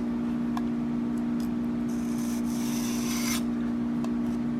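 A broadhead blade is drawn across a 1200 grit sharpening stone in light strokes, giving a close, soft abrasive rub with a brief brighter swipe midway and a few small ticks, over a steady hum, with no talking.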